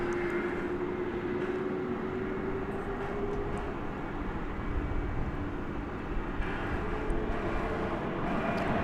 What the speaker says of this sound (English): Flight 6148 going to Madrid. Airbus A330-300. A 10-year-old aircraft.